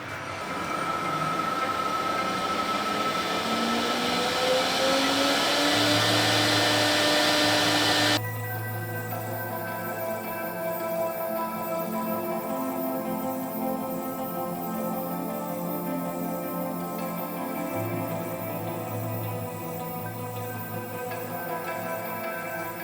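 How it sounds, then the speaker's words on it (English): A ball-nosed end mill cuts a wooden boat stem, a whining, humming drone that shifts to a lower, steadier tone partway through, with no voices. "we're going to use a ball-nosed end mill for this next pass"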